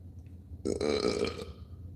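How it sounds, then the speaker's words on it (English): A loud, drawn-out burp in the middle of the clip, alone with no talk, over a low steady background hum. "Burp got in the building."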